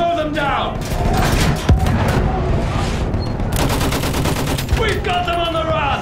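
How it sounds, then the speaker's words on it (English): A machine gun fires in a video game battle set in trenches. Steady, loud, rapid volleys hammer on amid wider battlefield gunfire, with shouting voices mixed into the din. "Use that machine gun! Mow them down!"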